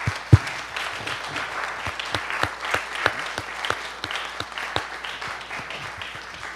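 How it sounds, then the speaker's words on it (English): Congregation members at a synagogue townhall applaud steadily, a dense wash of many hands with a few sharper close claps standing out, sustained at even loudness throughout. "please a round of applause for all of you"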